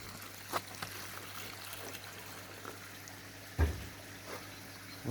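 Water trickles from a hose into a bathtub on a farm in winter, a soft, steady low-level flow with a faint hum underneath and a few brief knocks.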